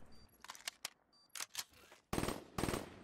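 Rapid bursts of automatic gunfire in a Black Ops 3 multiplayer match, several short volleys followed by two longer rattling bursts, fairly faint.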